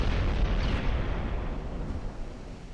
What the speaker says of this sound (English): That was a nasty shell there.